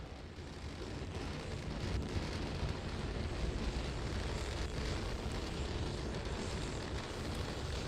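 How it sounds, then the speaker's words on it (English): SpaceX Starship SN11 test vehicle climbing over Starbase in South Texas, a steady, dense low roar with broadband rumble and wind buffeting, sustained and loud throughout with no speech. "Starship Test Vehicle number 11 ascending over Starbase in South Texas."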